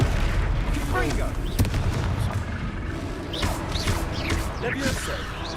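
The Confringo blast spell in the video game Hogwarts Legacy goes off as booming, rumbling explosions over a busy combat soundscape, with voices and chatter mixed throughout.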